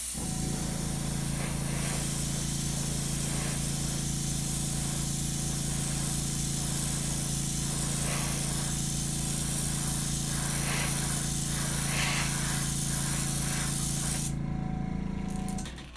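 A crankbait fishing lure being spray painted produces a continuous close hiss of spray that runs unbroken for about fourteen seconds before it stops, with no voices.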